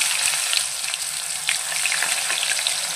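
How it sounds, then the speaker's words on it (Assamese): Raw banana pieces fry in hot mustard oil over a medium flame with a loud, continuous, crackling sizzle up close, small pops running through it and no speech. "মানে এইখিনি ধুনীয়াকৈ মই ফ্ৰাই কৰি ল'ম।"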